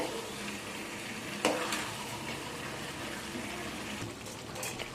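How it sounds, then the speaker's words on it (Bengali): Chicken pieces sautéing (kosha) in a pan for biryani, a steady close sizzle of frying with soft stirring scrapes and one sharper clatter early on, continuous throughout with no talk. "আমাদের এখন চিকেন কষানো চলছে"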